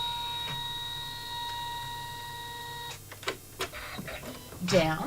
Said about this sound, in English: I'm going to come through and put my crosshatch basting design